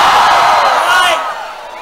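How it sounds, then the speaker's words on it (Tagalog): Festival crowd at a live Ginuman Fest event, a loud, dense wash of shouting and cheering that fades over a couple of seconds. "isang malakas sa sigawan naman dyan!"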